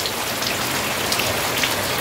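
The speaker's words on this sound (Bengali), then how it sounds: "এরকম বৃষ্টি হচ্ছে" Heavy rain pours down outside a forest homestay in Chisang, North Bengal, a loud, dense and unbroken hiss of drops with no voices.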